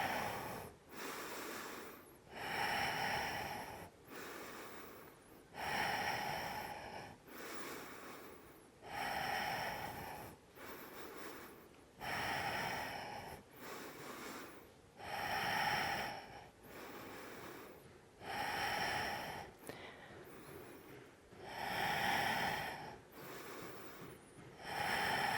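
Heavy rhythmic breathing during a yoga-style strength training workout: about ten sharp, loud breaths spaced a couple of seconds apart, each a forceful inhale or exhale, with no talking.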